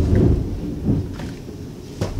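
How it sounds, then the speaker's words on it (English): Thunder rolls during a thunderstorm outdoors, a low, loud rumble that swells and fades in a few uneven waves, with a faint crack near the end. "It's a thunderstorm out here."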